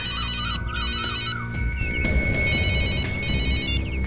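A phone rings with a repeating electronic ringtone, bursts of bright warbling tones separated by short gaps, loud and close over a faint low background hum.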